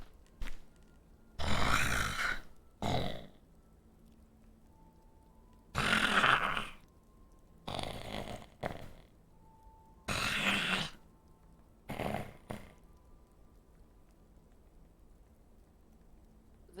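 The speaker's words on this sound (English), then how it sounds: "Like a snoring purr." Snoring purr from sleeping creatures beyond a door in a tabletop game, several long rumbling breaths repeating at steady intervals, fairly close and loud with quiet gaps between them.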